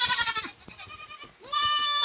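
Young goats bleat close by on a rainy day in rural Nepal, two loud, quavering calls separated by a short quieter gap with softer bleats in between.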